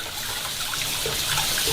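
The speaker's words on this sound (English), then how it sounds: "I'm going to run this under a cold tap now to stop it cooking" Cold tap water runs steadily over freshly cooked udon noodles in a kitchen sink, a continuous close, bright splashing hiss that never stops, with no talk over it.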